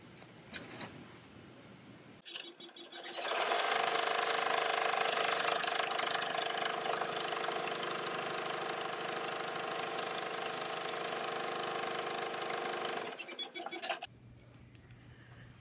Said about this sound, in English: now that we've sewed the buttonhole